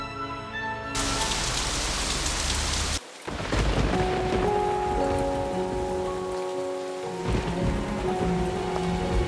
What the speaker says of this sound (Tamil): அடடா வெளியில ரொம்ப நல்ல மழை பெய்தே